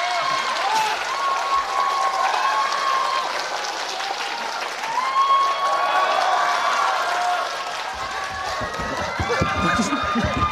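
Steady audience applause fills a Deyunshe crosstalk comedy show, with dense clapping and crowd noise running throughout while voices carry faintly over it.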